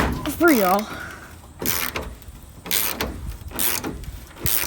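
A socket wrench ratchets on engine bolts while an engine is pulled from a VW bus, in several close bursts of rapid clicking separated by short pauses. A brief voice sound comes near the start.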